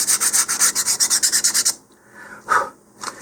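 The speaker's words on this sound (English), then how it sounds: "I'm going to go up to some 220 and just sand that a little smoother" 220-grit sandpaper wrapped on a sanding tee rubs back and forth over a model rocket part, a quick run of rhythmic rasping strokes up close that stops partway, followed by a couple of faint handling sounds.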